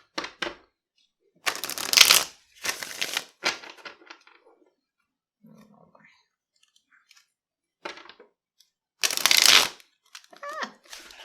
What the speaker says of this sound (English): So distracted I can't shuffle.